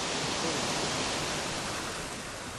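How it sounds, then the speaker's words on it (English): Near the village of Chorro Blanco in Peru, a waterfall pours in a dense, unbroken roar that holds steady and loud throughout. "The village got its name from a nearby waterfall"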